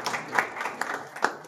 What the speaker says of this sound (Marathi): एकदा टाळ्या होत आहेत